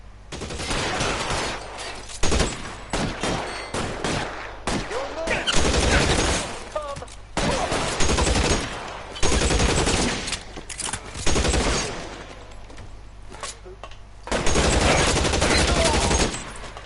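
A shootout in L.A. Noire, with rapid gunfire in repeated bursts of close shots and automatic fire separated by brief pauses. Voices are heard in between.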